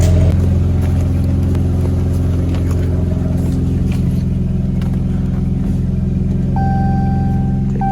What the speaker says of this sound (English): I'm going to hop in the car and we're going to go drive somewhere